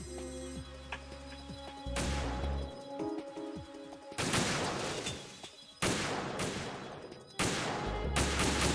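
Sniper rifle shots from a PSG-1 in Metal Gear Solid 2 ring out as several loud, sharp cracks spaced a second or two apart, each with a decaying tail over a low rumbling game ambience.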